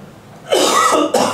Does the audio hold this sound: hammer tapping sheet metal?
no